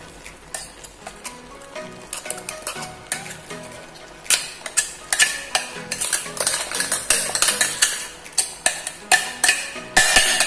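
Grated coconut going into a pan of avial, a Kerala mixed-vegetable dish, with soft clinks and scrapes of a spoon against the pan that grow busier and more rhythmic partway through, close and fairly clear.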